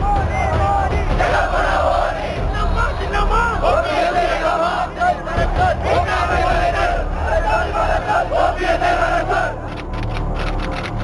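Protesters demanding Jallikattu fill Marina Beach in Chennai, a dense crowd roaring and chanting together in loud, continuous waves of massed voices with rhythmic shouted bursts.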